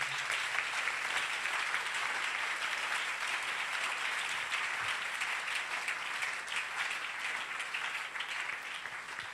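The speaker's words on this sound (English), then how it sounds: "you can clap" A church congregation claps steadily and loudly at an evening service, a dense, continuous wash of hands that fills the room throughout and eases slightly toward the end, with no speech on top.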